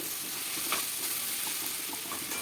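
Spices and whole cloves frying with a steady close sizzle in a pan while being stirred, with a few soft scrapes for an Andhra-style stuffed eggplant curry; no voices.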